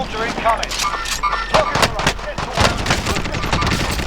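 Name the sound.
assault rifle gunfire in the video game Warzone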